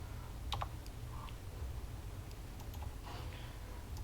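Faint, sparse keystrokes tap on a computer keyboard, a few scattered clicks over a low steady hum in a quiet room.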